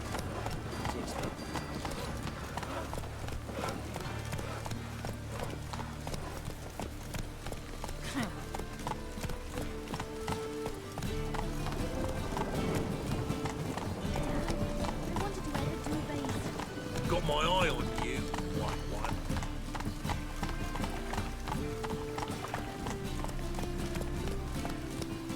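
Horse galloping in The Witcher III, a steady clip-clop of hooves running under game music and ambience, with a voice speaking over it.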